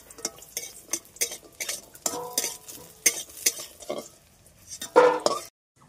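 Bitter gourd fries in a pan with a rhythmic run of close spatula scrapes and clatter over a light sizzle, ending in a short silence.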